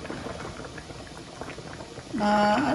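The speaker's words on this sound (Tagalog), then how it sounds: "Pakuluan lang natin ng mga 7 minutes, naka 4 minutes na tayo." Pasta bubbles in a pot of boiling water, a steady low rumbling burble close by, with a brief tonal clink or whistle near the end over the boil.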